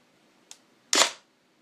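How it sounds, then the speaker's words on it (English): The pre-cocking piston of a KSC HK33K airsoft rifle pulls back with a faint click and then a sharp mechanical snap about half a second later, heard close and on its own. "That was the sound of the"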